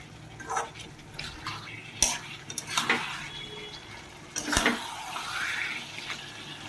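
Mutton frying in oil in a wok with fried onions, stirred by hand: scraping spoon clatters and bursts of sizzle come and go in uneven strokes, close and fairly quiet, with no talk.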